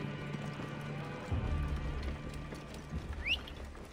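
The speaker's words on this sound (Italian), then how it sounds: "Mettiamo il cavallo con le zanne" Hooves of a tusked horse mount in the video game Assassin's Creed Origins, a rhythmic clip-clop of steady footfalls with a brief thud and a faint high squeak near the end, moderately close.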